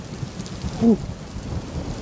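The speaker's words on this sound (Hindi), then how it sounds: "बारिश भी आ रही है।" Steady rain falls with a low rumble of thunder, a constant noisy wash with one brief swell near the middle, and no talk.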